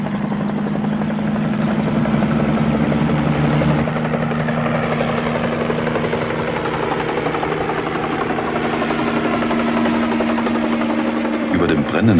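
Firefighting helicopter lifting a water bag used to douse forest fires: a steady, loud rotor drone with a low engine hum runs throughout, with a shift in tone near the end; a voice speaks over it.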